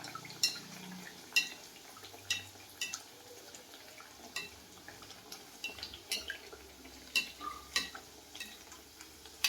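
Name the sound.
frying bhature in hot oil, stirred with slotted spoon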